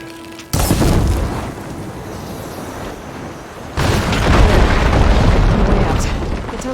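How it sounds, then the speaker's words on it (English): Blaze barrels hit with fire ammo in Horizon Forbidden West go up in two heavy, close booms, the first one sudden, the second rolling into a long rumbling roar of debris and fire. "Hitting those blaze barrels with fire ammo should do the trick."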